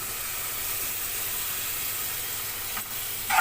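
Soaked dried shrimp goes into roasted masala in a pan, giving a steady, even sizzle and hiss that runs throughout, with a brief scrape near the end.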